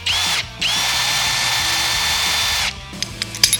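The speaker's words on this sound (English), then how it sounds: "Basically, got to drill it out." A power drill runs hard and close as it bores out a stuck pin in a Nissan S13 front suspension being swapped onto a 910 Bluebird. A brief first burst is followed by a long steady whine, then a few light clicks and knocks.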